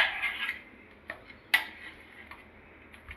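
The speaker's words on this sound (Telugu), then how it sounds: "ఇలా ఇడ్లీలన్నీ కూడా మ్యాష్ చేసుకొని మెత్తగా చేసుకోవాలి" Steamed idlis mashed in a bowl with a spoon, heard as a soft scraping start followed by a few sharp spoon taps against the bowl, close and quiet.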